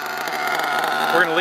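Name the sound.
RC Mods nitro engine running at high idle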